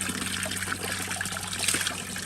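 Spring water trickles steadily from a mountain spring in Barzan, a close, continuous splashing and bubbling stream with no voices over it.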